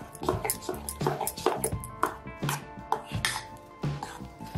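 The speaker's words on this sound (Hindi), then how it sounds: "और अच्छे से मिक्स कर लेते हैं।" Fruit curd stirred with pomegranate seeds and tutti frutti in a bowl, a run of close spoon knocks and clinks against the bowl in an uneven rhythm, with soft wet squelches between them.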